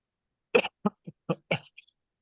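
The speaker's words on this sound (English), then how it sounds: "getting over a little bit of a cough here." A short burst of coughing, about five separate coughs in an uneven series, close and fairly loud against silence.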